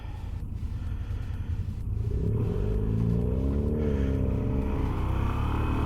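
A V7 motorcycle engine rumbles low and steady at idle around 1600 RPM, rising slightly partway through with a wavering, pulsing drone.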